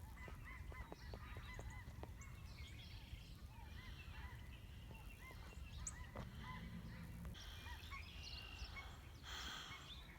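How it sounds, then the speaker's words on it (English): A flock of geese honking over a winter farm pasture with highland cattle, many distant, overlapping honks in irregular bursts, faint and far off against outdoor background noise. "I hear geese."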